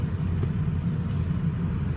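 A 2003 Ford diesel truck drives along a road, heard from inside the cab as a steady, low engine rumble with a muffled road drone.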